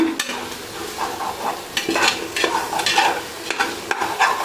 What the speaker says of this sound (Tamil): நான் கொஞ்சம் மிக்ஸ் பண்ணி விட்டுக்கலாம்